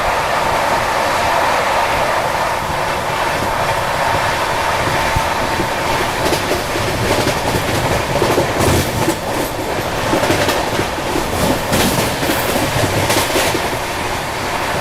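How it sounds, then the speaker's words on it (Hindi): The Delhi Howrah Rajdhani Express runs at speed between Dabra and Datia while overtaking the Gondwana Express, giving a loud, steady onboard rumble with continuous clickety-clack of wheels over rail joints. "अभी अपनी ट्रेन ओवरटेक करने वाली है गोंडवाना एक्सप्रेस को।"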